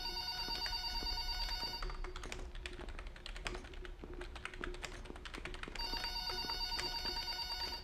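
A telephone rings over and over inside a horror video game, with clicking and tapping between the rings and no one talking.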